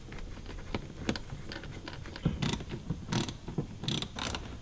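A ratchet clicks in short bursts on the 8mm bolts of the oil filter cover on a V10 BMW E60 M5, close and fairly quiet, with a few light metallic taps and rattles between the runs.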